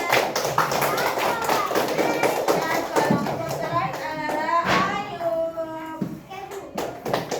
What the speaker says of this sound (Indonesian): Yang ketiga kelompoknya Rasya. Tepuk tangan.